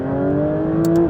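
A Porsche GT3 RS engine holds a steady, loud, high-pitched drone near 6,500 RPM, with a couple of brief clicks near the end.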